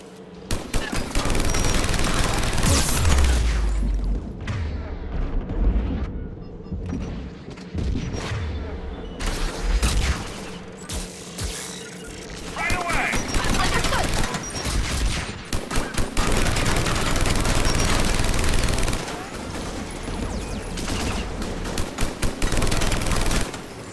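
Sustained enemy gunfire in Mass Effect Legendary Edition, heavy machine-gun bursts and booming impacts roaring almost nonstop, loud and close, with a voice briefly heard over the din.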